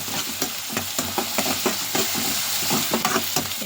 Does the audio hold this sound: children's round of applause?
no